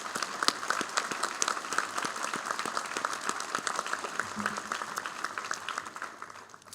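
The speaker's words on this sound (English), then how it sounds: "One final round of applause." An audience claps at a National Honor Society induction ceremony in a school hall, dense sustained applause with crisp individual claps standing out, fading slightly toward the end.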